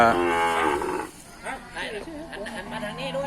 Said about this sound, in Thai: เดี๋ยวผมจะให้ดูวัวตัวหนึ่ง วัวเจ้า เล่มั่นตัวนี้นะ